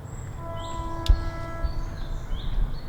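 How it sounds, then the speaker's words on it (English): A low, steady rumble of a distant train runs through the clip, with a faint long horn-like tone and a few bird chirps on top. "Much like the train you can hear in the background"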